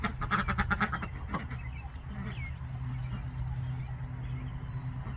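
Several farm goats bleat in a quick burst of wavering, overlapping calls near the start, then fall quiet over a low steady hum of outdoor background noise.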